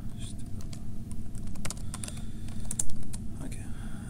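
Computer keyboard typing heard up close: irregular clicking keystrokes in quick bursts over a low constant background hum, with no talking.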